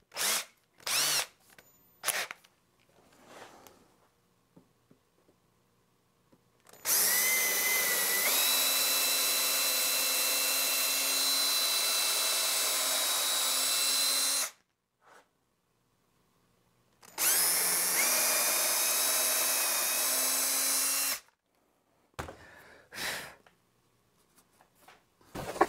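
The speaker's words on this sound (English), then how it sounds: "got those holes drilled" Power drill boring holes in lumber for an outdoor bench, two long steady whining bursts of about seven and four seconds separated by quiet gaps, close and loud, with small handling clicks and knocks around them.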